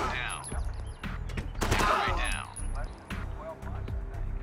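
Gunfire in the tactical game Door Kickers: several sharp shots and a dense burst of rapid fire in the middle, mixed with clattering game effects and someone talking over the action.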